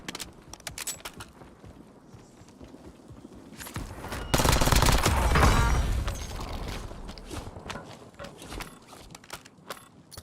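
Video game gunfire in a 1980s-set shooter: sharp bursts of shots and rapid automatic fire, with a loud dense stretch midway, alongside footsteps and mechanical clatter, close and loud with no voices.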